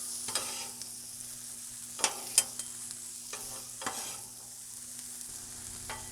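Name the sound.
butter melting and sizzling on a griddle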